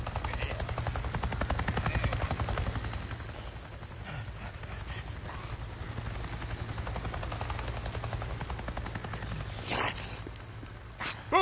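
A helicopter flies overhead in the video game Days Gone, a steady rotor chop running through the whole stretch with game ambience and a few sharp bursts near the end; no one speaks.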